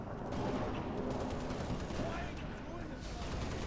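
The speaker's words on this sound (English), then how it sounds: "Shotgun saves the day." Shotgun fire in Halo Reach, heard as heavy muffled blasts within a dense, rumbling battle mix, fairly quiet overall.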